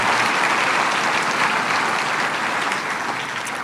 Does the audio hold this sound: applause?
yes